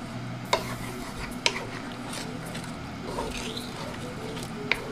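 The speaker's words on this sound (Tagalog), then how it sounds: "Haluin natin kasi ito na kailangan natin haluin ng haluin kasi didikit yan sa ano, sa kawali natin." Rice porridge (lugaw) stirred in a pan (kawali), giving soft scraping and stirring noise with a few sharp utensil clicks against the pan, close by, along with a faint voice in the background.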